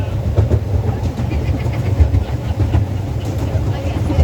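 Toy train ride at a resort, a loud, close, continuous rumble with a rhythmic clatter of the cars that slows toward a stop, with some voices nearby.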